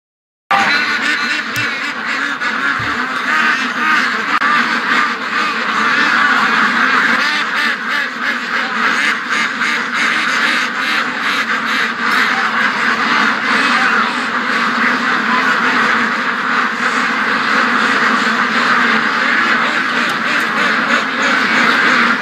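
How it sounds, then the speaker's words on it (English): A flock of ducks being raised for charity quacks loudly and continuously close by, a dense, overlapping chorus that continues throughout. "Ducks know they've woken up."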